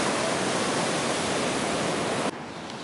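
Large ocean waves break on a beach at night as a dense, steady roar of surf, loud and close. It drops suddenly to a softer wash near the end.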